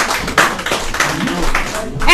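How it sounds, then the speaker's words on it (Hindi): Audience applause at an Urdu poetry gathering, a short burst of scattered clapping from a crowd lasting a couple of seconds. "जोरदार तालियों के साथ"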